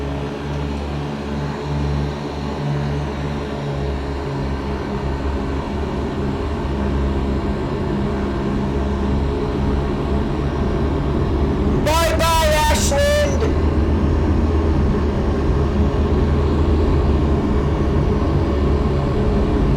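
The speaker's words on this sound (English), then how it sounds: "I'm going to put volume up so that you guys can get the full audio for the takeoff" An airplane engine during takeoff in the X-Plane 11 flight simulator drones loud and steady throughout, with a brief tonal chime partway through.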